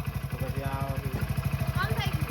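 A motorcycle engine runs nearby with a steady, even rhythm of low pulses, while people talk over it.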